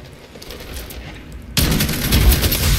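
Gunfire in a video game, including a shotgun, erupts halfway through as a sudden loud burst that keeps going as dense, continuous shooting after a quieter first half.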